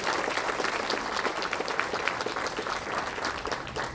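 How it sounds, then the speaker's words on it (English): Crowd at an outdoor Pride flag-raising ceremony in Westchester County applauds steadily, a dense, even wash of clapping lasting several seconds with no voices over it. "So we owe a round of applause to Andy Spano as well."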